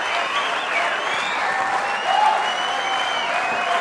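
A crowd at a professional men's squash match erupts after an extraordinary rally, with loud, sustained applause and cheering that fills the space evenly without a break.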